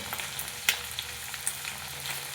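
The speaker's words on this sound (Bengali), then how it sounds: "এক সাইডটা ভাজা হয়ে গেছে উল্টে দিয়েছি মাছগুলো" Prawns frying in hot oil in a pan after being flipped, giving a dense, even close sizzle with small pops and a sharper crackle or two.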